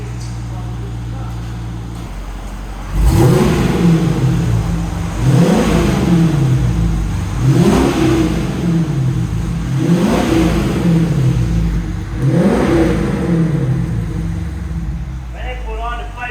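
A Dodge Charger R/T with its mufflers removed revs repeatedly, five or six deep rising and falling blips over a steady loud idle, close by, with voices in the background.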